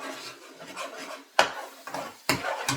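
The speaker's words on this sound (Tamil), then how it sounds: "ஒரு சைட்டா இப்படி கலந்து விடுவோம் முட்டையை" A spoon or spatula scrapes and taps in a frying pan as egg is stirred together with vegetables for mutton kothu roti. The strokes are soft and uneven, with two sharper clanks against the metal, and no one speaks.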